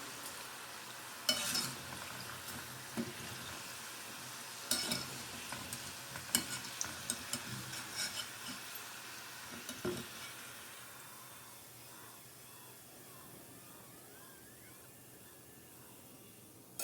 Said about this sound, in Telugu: టూ సైడ్స్ కూడా చక్కగా గోల్డెన్ బ్రౌన్ కలర్ వచ్చే వరకు వీటిని ఫ్రై చేసుకోవాలి.